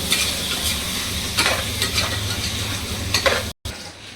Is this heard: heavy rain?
no